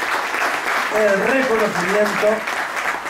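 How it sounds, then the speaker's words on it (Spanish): Applause from a crowd at a PSOE political rally in Puerto Sagunto, a dense steady patter of clapping, continues throughout while someone speaks loudly over it in Spanish. "Y eso merece el aplauso"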